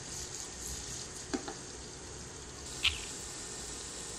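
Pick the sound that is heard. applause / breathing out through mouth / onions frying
onions frying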